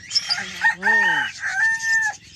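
A rooster crows loudly, with native chickens clucking and squawking around it close by.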